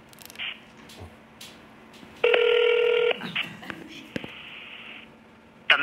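A telephone number is dialed on a phone, with a short run of dial tones followed by a long steady tone and brief beeps, loud against quiet background noise.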